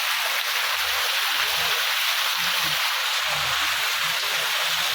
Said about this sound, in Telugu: యాగంటి లోయ, లోయల నుంచి వస్తున్నాయి నీళ్ళు ఇవి.